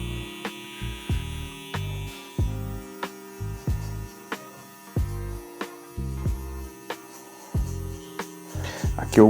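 An electric hair clipper buzzing close during a low fade haircut, its hum switching on and off in short repeated bursts with clicks between them.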